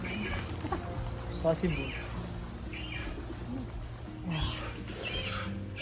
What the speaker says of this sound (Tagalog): wow! Kalapati.